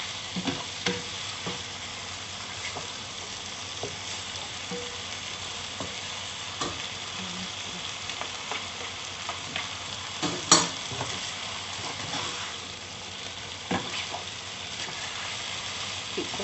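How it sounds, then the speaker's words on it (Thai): Pork sausage sizzles in a hot pan and is stir-fried with holy basil and dried chili. A steady, close crackle of frying runs throughout, with occasional scrapes and clinks of the utensil against the pan. "ได้ผัดหมูยอ ใบกะเพราพริกแห้งเสร็จเรียบร้อยแล้วค่ะ"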